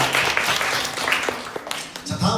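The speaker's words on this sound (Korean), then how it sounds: "우리 수고한 친구들에게 한 번 더 박수하면서 하나님께 영원을 드리겠습니다" A church congregation claps for children after a Bible quiz, a dense, continuous patter of hands heard close up, with a voice speaking over it.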